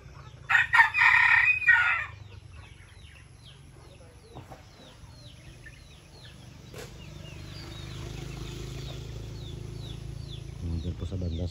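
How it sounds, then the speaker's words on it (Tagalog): Gamefowl roosters crowing around a home yard, one loud, close crow early on, then fainter, more distant crows and clucks over a low background, with chirping birds, and people talking in the background. "Pakinggan mo natin mga kanter."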